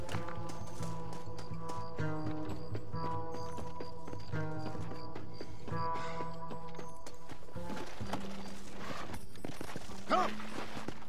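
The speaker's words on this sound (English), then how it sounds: "Now get us a horse, my friend." Horse hooves clip-clop steadily in the video game Red Dead Redemption, a rhythmic tapping that stays fairly soft under a continuous bed of game music.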